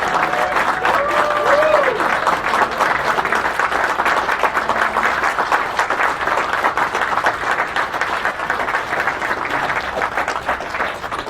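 Audience at a Masters and Doctors of Pipes awards presentation giving sustained, dense applause from a large crowd that fills the room steadily for the whole stretch, with faint voices mixed in.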